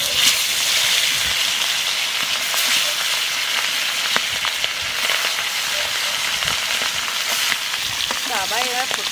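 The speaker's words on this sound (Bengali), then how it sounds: "ইলিশ মাছের লেজাটা নুন হলুদ মাখিয়ে ভেজে নেব।" A hilsa fish tail rubbed with salt and turmeric fries in hot oil with a continuous crackling sizzle and scattered sharp pops, and a brief voice is heard near the end.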